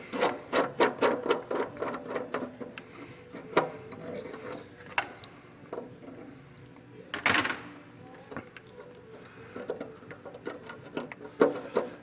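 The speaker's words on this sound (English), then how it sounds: "So we're going to go ahead and unscrew this nut." Metal scraping and rasping as a nut is unscrewed on the dipstick tube of a 7.3 Powerstroke diesel engine, with irregular close scratchy turns and clicks, busiest at first and then sparser.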